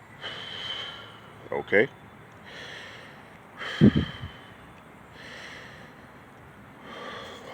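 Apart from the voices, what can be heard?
deep breaths before blowing a shofar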